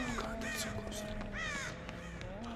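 Crows caw repeatedly in the Dead by Daylight video game, harsh calls rising over a steady low game hum, several overlapping caws spread across the moment at moderate distance.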